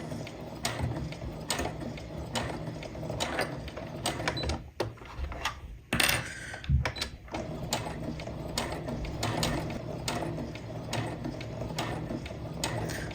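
A sewing machine stitches a curve on a dinosaur apron in a series of close, rhythmic mechanical clattering runs, pausing briefly midway with some handling knocks before the steady ticking resumes.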